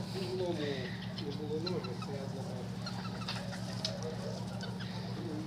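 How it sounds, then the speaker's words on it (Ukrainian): Bantam roosters scuffle and cluck outdoors in the evening, with overlapping clucks and chirps over a steady low hum while people talk in the background. "О, чотири півника б'ються."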